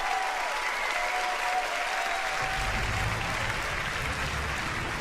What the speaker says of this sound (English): they deserve that round of applause